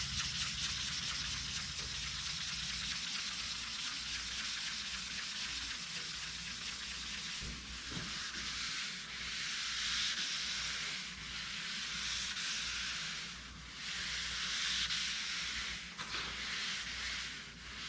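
A Z28 hood's clear coat is buffed with a quiet, continuous rubbing hiss that swells and eases in slow waves, with no talking.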